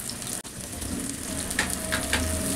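Ginger garlic paste and spices frying in hot oil in a pan while cooking a shrimp and soybean curry, a steady close sizzle with a few soft stirring scrapes and no talk.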